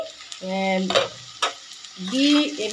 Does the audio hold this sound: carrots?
yes